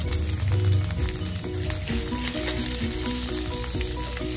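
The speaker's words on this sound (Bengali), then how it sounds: "বাটার দিয়ে দিলাম" Butter hits a hot pan already holding a little oil and egg, sizzling loudly and continuously up close, with a dense crackling hiss and no talk.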